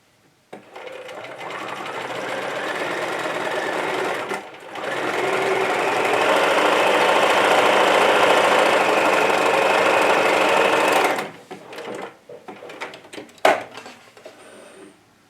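Home sewing machine stitching a narrow folded strip of fabric for a small wallet, a close, rapid mechanical whir in two long runs with a brief pause between, then stopping with a few clicks and handling noises.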